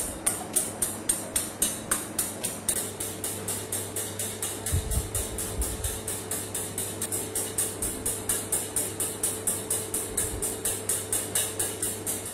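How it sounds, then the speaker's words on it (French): Egg whites being whisked slowly by hand in a bowl for a floating island dessert, producing a steady, even rhythm of close, crisp metallic ticks and swishes about five per second, alone without talking. "Je vais fouetter très doucement, ça sert à rien d'aller vite."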